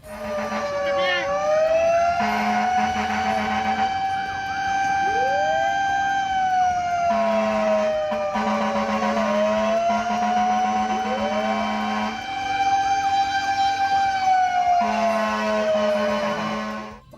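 A fire truck siren wails as the truck of a volunteer fire brigade leaves the station, loud and close, its pitch sweeping up and down in repeated cycles over a steady low horn-like tone.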